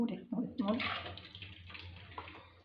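Water is poured into dough during kneading, a soft splashing trickle, with a voice talking briefly at the start.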